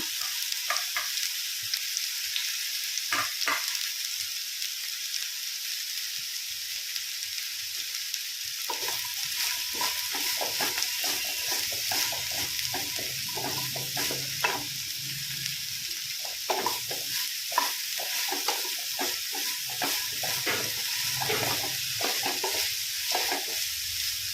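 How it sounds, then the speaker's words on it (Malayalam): A steady hiss of okra frying in hot oil, with crackling pops and the scrape of stirring throughout, no voices. "നമ്മുടെ എണ്ണ തിളച്ചിട്ടുണ്ട് ഇനിയിപ്പോൾ അതിലേക്ക് നമുക്ക് ഇതിട്ട് കൊടുക്കാം"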